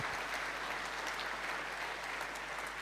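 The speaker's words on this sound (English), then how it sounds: "Round of claps for Team Google" An audience at the Kawaiicon 2022 hacker conference applauds Team Google, a sustained, even wash of many hands clapping at moderate loudness without pause.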